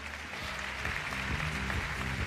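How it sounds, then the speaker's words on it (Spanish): Applause at a university graduation ceremony, a steady crowd clapping that fills the space with dense, continuous sound, with music and low rumble beneath it. "Aplausos, por favor."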